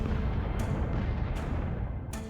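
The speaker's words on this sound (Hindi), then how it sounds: "बाबर अपने साथ एक भयानक नया हथियार लाया था, तोपें।" Heavy cannon fire booms in a dense, rumbling roar, with three sharp blasts cutting through a continuous loud low thunder.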